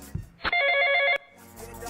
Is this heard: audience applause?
no